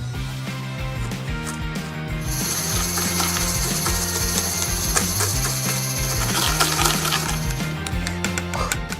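A toy mixer churning cake batter in a Baby Born doll play kitchen, a continuous close rattling gear whirr with a high whine running throughout.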